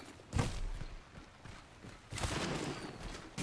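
Charge rifle fire in a competitive first-person shooter, two heavy bursts about two seconds apart, each with a sharp crack and rumbling tail, over faint game ambience with no talking.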